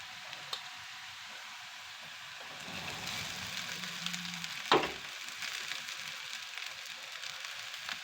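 Golden fried onion sizzling in a pan as soaked poha is tipped in, a soft steady frying crackle with a low scrape and a sharp knock partway, quiet and close.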